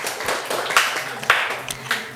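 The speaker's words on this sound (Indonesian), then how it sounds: "Beri tepuk tangan sekali lagi untuk teman-teman peserta." Applause for participants at an Aceh oral tradition meeting, a scattered patter of hand claps from a small group with a few sharper single claps.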